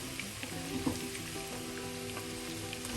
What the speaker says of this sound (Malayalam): നമുക്ക് 4 സവാള അരിഞ്ഞത് ചേർക്കാം.